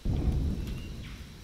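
Rain with rolling thunder in the game Empyrion, a continuous low, dense rumble that holds steady throughout, dips briefly at the start and swells again at the close, with no voices over it.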